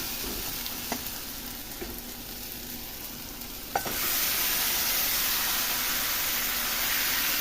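Marinated chicken drops into hot oil in a pan, with a few light clinks and taps before a sudden loud, steady sizzle takes over and holds, close and unbroken, with no talking.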